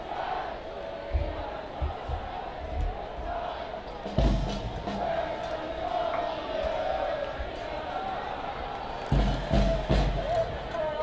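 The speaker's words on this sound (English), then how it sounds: "Hooligans still cheering you" Football supporters cheer and chant in the stands at a soccer match between Inter Nashville FC and Chattanooga FC. A constant distant crowd roar is broken by several thumping bangs and shouts, with some nearby voices.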